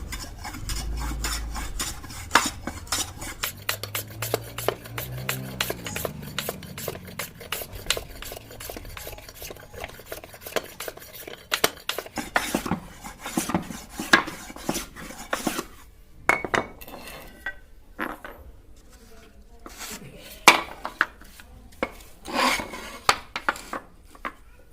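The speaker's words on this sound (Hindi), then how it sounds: "अभी इसको रंधा मारकर बनाकर हथौड़ी में बिठाना है" A hand plane shaves and scrapes a wooden hammer handle in a workshop, giving irregular rasping strokes and sharp clicks, dense at first and then sparser toward the end, with no talking.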